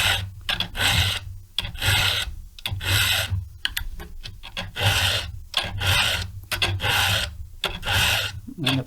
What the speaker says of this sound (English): You want to hear the rasp, don't you?